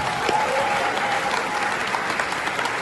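An audience at a political speech in Vancouver bursts into dense, steady applause filling the room, clapping throughout with no speech over it.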